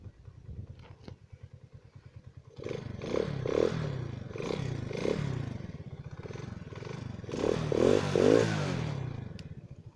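A Spark SP125C-1CF 125cc motorcycle engine catches after a push-button start with the clutch held, then idles and revs in a rough, throbbing roar with several rising surges, loud and close, with no talk.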